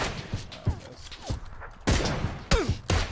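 Several gunshots ring out in the PUBG video game, scattered sharp bursts with a few loud reports clustered near the end, some sounding distant and others closer.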